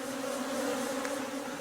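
A steady, droning insect buzz of forest bees in Cameroon hovers close by, continuous and unbroken with no voices.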